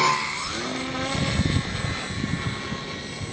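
A Sky Eye three-channel RC plane with twin 2212 motors flies, its steady buzzing motor whine holding at moderate distance with faint wind rumble underneath.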